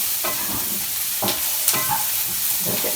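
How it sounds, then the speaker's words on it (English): Onions fry in a pan while being stirred, a close, loud, even sizzle punctuated by three or four distinct spatula scrapes across the pan, with no talking. "Stir my onions a little bit."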